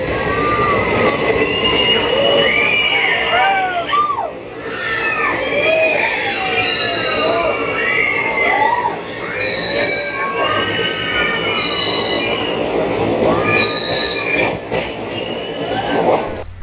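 Crowd of passengers shouting and cheering aboard a train near Araku, loud and continuous with overlapping whoops and cries over steady rumbling rail noise throughout.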